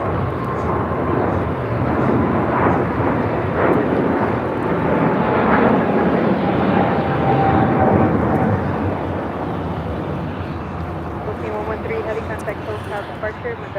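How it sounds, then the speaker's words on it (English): Philippine Airlines Boeing 777-300ER taking off at LAX. A loud, broad jet roar rumbles and swells, then slowly eases off, with a voice speaking over it. "This is Philippine Airlines 113 taking off to Manila on a 777 300 ER."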